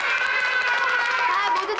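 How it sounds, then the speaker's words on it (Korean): A kindergarten class claps together in a busy, continuous patter, with children's chatter and excited voices mixed into the clapping throughout. "자, 우리 다 함께 박수 한번 쳐볼까요?"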